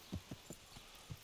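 A horse's hooves clip-clop in the medieval video game Kingdom Come: Deliverance, five distinct, evenly spaced soft thuds of a walking gait, fairly close and clear against a quiet background.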